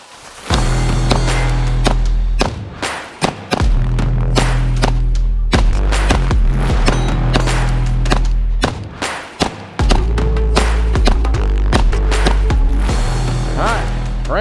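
Repeated loud pistol shots from a Lone Wolf Dusk 19 firing mixed CCI Blazer, Remington and handloaded ammunition, sharp reports in steady strings with brief pauses between groups of shots, close and dominant.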